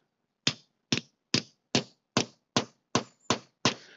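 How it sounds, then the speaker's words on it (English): A hammer gives nine sharp, evenly spaced blows to a metal punch, setting a grommet in a Tyvek groundsheet for a Tarptent Scarp 1; each crisp, close strike rings briefly with no talk. "get the hammer and give it a good whack"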